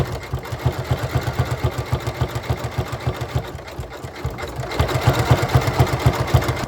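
A sewing machine stitches a quilt, its rapid rhythmic mechanical thumping running steadily and close, briefly slowing midway before picking back up and growing a little louder.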